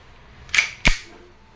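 Two sharp shots from an E&C Glock 19X airsoft gas pistol, a crisp snapping crack followed by a second about a third of a second later, close and loud with a quiet background.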